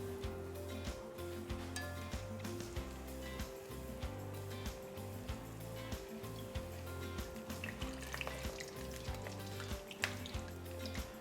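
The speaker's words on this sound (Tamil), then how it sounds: "அதை இதில் நனைச்சி எண்ணெயில் பொரிச்சிருவோம்." Batter-coated potato balls, potato bondas, fry in hot oil with a steady sizzle and crackling bubbles, close and continuous, while a low hum runs underneath.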